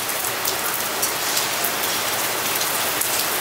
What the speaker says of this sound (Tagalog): Grabe, sobrang lakas ng ulan, oh.